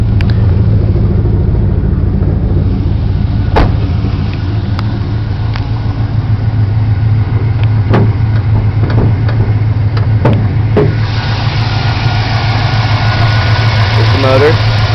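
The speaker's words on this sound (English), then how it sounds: "it starts every time" A 1996 Chevrolet Camaro Z28 V8 with a six-speed, aftermarket intake and new air filter, idling steadily with a close, loud low rumble throughout, occasional clicks and a voice talking over it.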